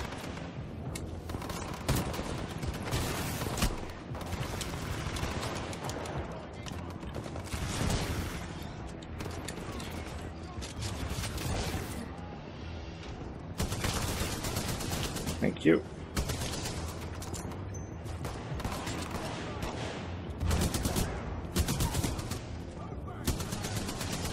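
Enemy gunfire in the video game Titanfall 2 rattles in repeated automatic bursts and single shots, loud and dense throughout amid game effects, with a player's voice talking at times.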